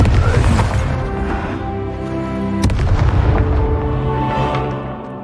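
A Confringo fire spell explodes in the wizarding game Hogwarts Legacy, making one sharp blast partway through over sustained booming game sound and tonal music.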